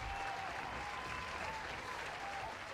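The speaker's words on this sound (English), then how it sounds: "can he get an applause for that, people?" An audience at a fan battle contest claps steadily and densely throughout, with no break or fade.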